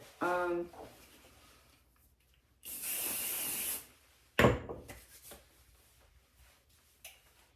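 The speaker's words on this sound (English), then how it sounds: "Now I will get some hairspray here" Hairspray is sprayed onto smoothed hair in one close, steady hissing burst lasting about a second, set between quieter rustling and brushing sounds.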